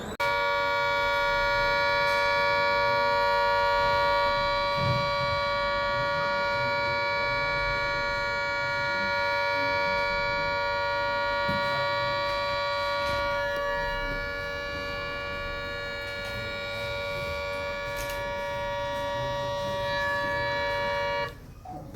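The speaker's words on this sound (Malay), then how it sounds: "This is sound for the all clear warning." A civil defense air raid siren sounds the all-clear: a loud, sustained steady tone held unbroken for over twenty seconds without rising or falling, with faint background noise beneath it.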